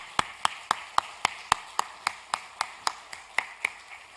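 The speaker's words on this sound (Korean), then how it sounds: "격려의 박수 하도록 하겠습니다" A church congregation at a Sunday service claps in unison to encourage and welcome guests, with about fifteen sharp, evenly spaced claps in a steady rhythm.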